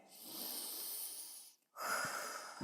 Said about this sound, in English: just take a few deep breaths with me